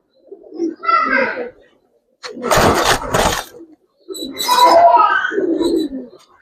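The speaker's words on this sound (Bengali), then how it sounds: "এখন বর্তমানে ট্রেন্ডে আছে লাল গিয়ার কবুতর" Red gear pigeons coo nearby in three separate bursts of soft throaty warbling calls separated by short pauses, and a voice sounds among them.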